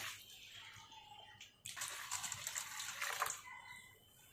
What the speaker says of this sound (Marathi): हे पाणी ओतून द्यायचं।